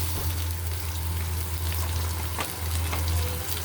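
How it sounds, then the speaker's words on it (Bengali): Spices with garlic paste fry in hot oil in a pan, making a loud, steady sizzle that crackles on without a break. "মশলার তেলে রেখে ভাজা"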